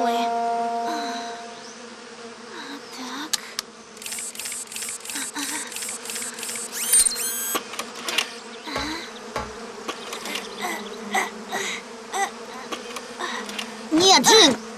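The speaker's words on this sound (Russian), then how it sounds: "Надо же, пчелы!" A cartoon swarm of bees buzzes loudly and continuously at a nest, with droning, wavering tones and scattered cartoon sound effects, and a brief voice speaks.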